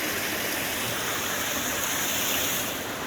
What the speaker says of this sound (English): Yes, we do have water coming out here,